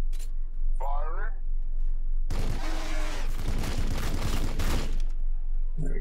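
Gunfire from units in the Warhammer 40K Battlesector video game, a loud dense burst lasting about two and a half seconds, with brief speech before and a quieter game backdrop after.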